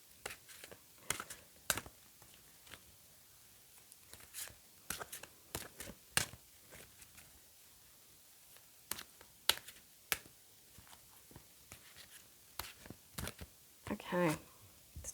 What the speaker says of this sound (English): I'm not very good at shuffling these ones.